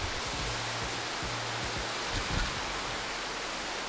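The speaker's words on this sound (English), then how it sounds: "Pouring rain, Nassau, Bahamas." Pouring rain in Nassau, Bahamas, a dense steady hiss of heavy downpour filling the whole stretch, with a few low bumps of wind or handling underneath and no voices.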